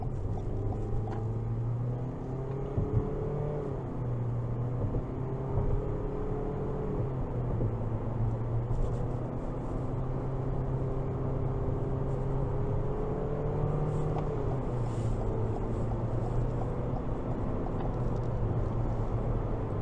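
Engine of a 2022 Toyota Corolla Cross accelerating on the road, a steady droning hum that rises in pitch through shifts, with continuous road and tire noise throughout.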